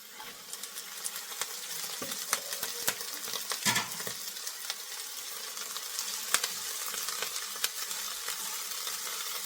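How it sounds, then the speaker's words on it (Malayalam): Washed drumstick flowers tossed into a pan of softened shallots, a steady bright sizzle with scattered crackles and stirring scrapes, close and continuous. "ഇനി അതിലേക്ക് നമ്മുടെ മുരിങ്ങാപ്പൂവ് കഴുകി വെച്ചതിട്ട് കൊടുക്കുകയാണ്"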